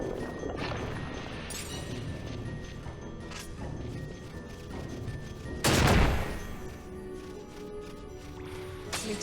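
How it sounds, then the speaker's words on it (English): A single loud explosion bursts out in the middle of Final Fantasy XII gameplay, standing above a steady bed of game music and ambience. "An explosion."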